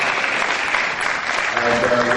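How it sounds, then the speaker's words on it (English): Audience at a startup pitch event claps in steady, dense applause, loud and continuous throughout without any lull. "Let's have a round of applause for Iyare."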